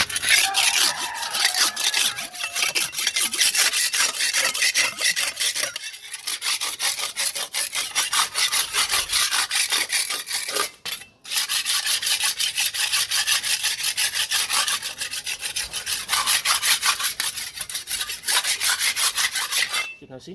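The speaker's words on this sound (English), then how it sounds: "So this is a little rock, so I'm going to sharp it on it." A blade is rubbed back and forth against a small rock to sharpen it, making a loud, continuous, rapid rasping scrape with only a brief pause partway through.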